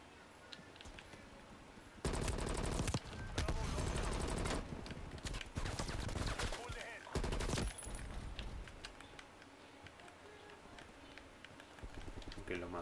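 M4 rifle gunfire in Call of Duty Cold War, loud sustained automatic bursts lasting a few seconds each, separated by quieter gameplay and footsteps, with someone talking at times.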